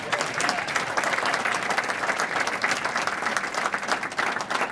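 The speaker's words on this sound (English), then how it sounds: "could we have a nice round of applause for Mr. Santoro?" An audience at a high school women's athletic hall of fame induction ceremony applauds Mr. Frank Santoro, dense sustained clapping from a crowd filling the room at an even level throughout.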